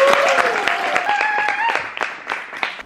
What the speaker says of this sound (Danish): så klapper vi